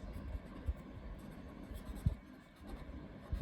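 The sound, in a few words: writing while solving a maths equation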